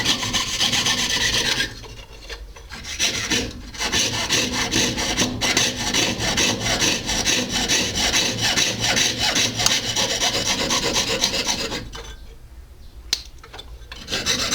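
A jeweler's saw cuts metal at a goldsmithing bench, a steady rasping back-and-forth stroke that runs nearly the whole time, loud and close, with two short pauses as the blade is lifted.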